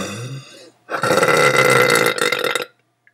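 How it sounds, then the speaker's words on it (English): One long, loud, close burp lasting nearly two seconds, rough and rumbling and fading out at the end, after a short voiced sound. "My really long burps."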